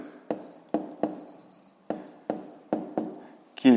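Pen or chalk writing numbers during a fifth-grade maths exercise, a series of short sharp scratchy strokes with irregular gaps, close and fairly quiet, ending with a brief louder scrape.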